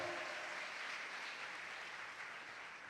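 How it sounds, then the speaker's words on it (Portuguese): A large crowd at a church service applauds steadily throughout, a continuous wash of clapping that sounds somewhat distant and soft. "erga suas mãos e aplauda ao Senhor"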